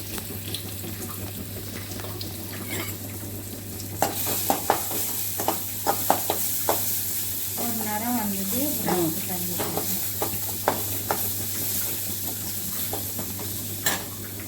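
Urad dal, dried chili, curry leaves, garlic and asafoetida tempered in hot oil, giving a soft steady sizzle with scattered sharp pops and stirring clicks, close by under a constant low hum.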